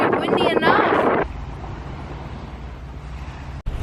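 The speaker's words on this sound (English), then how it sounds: "It's already windy enough." Steady outdoor wind buffeting the microphone with a low rumble, following a brief moment of a voice talking at the start.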